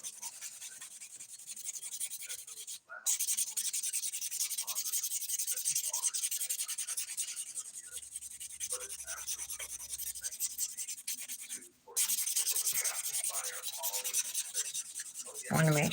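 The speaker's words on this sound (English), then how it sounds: "It's a shaper buffer, also a 100 by 180 grit, and I'm using the 100 grit to buff." A fingernail is buffed with the 100 grit side of a 100/180 shaper buffer, giving steady close back-and-forth rasping strokes that are loud and continuous with two brief pauses, with no talking.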